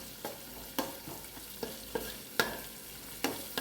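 Green chilies sizzling in a pan while cooking pepper chicken, a soft steady fry broken by regular clinks and scrapes of a spoon stirring, about eight strokes at an unhurried pace.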